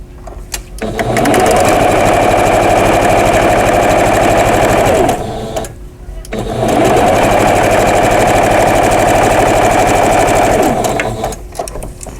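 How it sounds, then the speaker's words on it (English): A sewing machine stitches a vintage quilt block in two loud, close runs of rapid mechanical whirring, each about four to five seconds long, separated by a brief pause while the fabric is turned; no one speaks. "And then just swing around and sew the other side."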